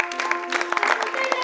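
Children in a school audience clapping after a magic trick, a short burst of scattered applause with voices mixed in.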